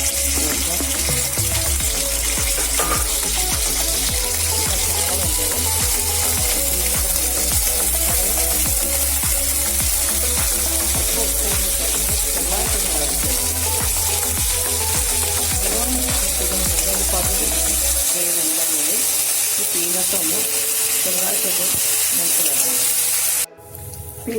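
Peanuts and green peas fry in a spoonful of cooking oil in a kadai, giving a steady close sizzle and hiss with low stirring rumbles that continues for most of the stretch before dying away.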